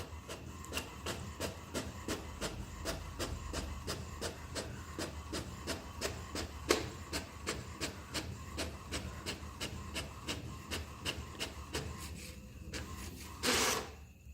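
An HP Smart Tank 670 inkjet printer runs off a test page with a steady, rapid mechanical clatter of regular ticks over a low motor rumble, ending in a brief hissing burst near the close.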